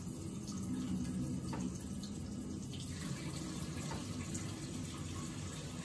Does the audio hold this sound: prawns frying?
no